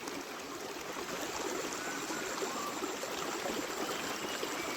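Water murmurs and gurgles continuously along a stream at the bottom of a deep forest gorge, a steady, even wash of sound with no voices.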